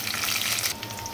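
Mustard seeds and dried red chillies sizzle sharply in hot oil, a tempering for chutney; a loud, steady hiss that eases slightly toward the end.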